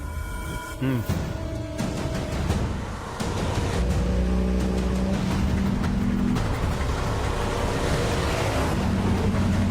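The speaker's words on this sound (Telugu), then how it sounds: "బండి బయలుదేరింది సార్" A vehicle rumbles and revs loudly nearby as it pulls away, the engine note rising and holding steady with shifting tones.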